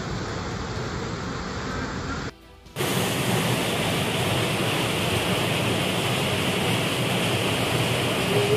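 The Gavalivada waterfall roars as a loud, steady rush of falling water that drops out briefly near the start, then resumes at full strength.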